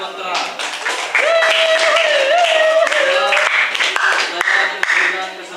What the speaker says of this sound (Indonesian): Beri aplaus kepada tim kontra.